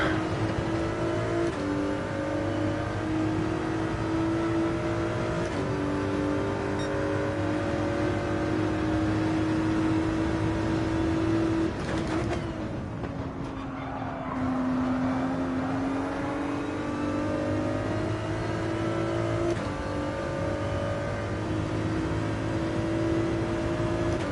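Porsche race car engines in Gran Turismo 7 during an online daily race: a steady, buzzing high-revving engine drone that holds throughout, with the pitch dropping briefly and then climbing again midway.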